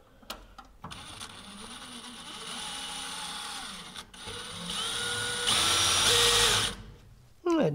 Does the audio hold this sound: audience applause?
no